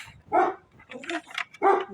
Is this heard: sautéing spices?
no